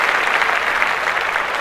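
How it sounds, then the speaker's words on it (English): Steady, dense applause from a group of people on a podcast, a continuous wash of clapping at fairly close range lasting the whole moment, with no talk over it. "let's clap that up right away"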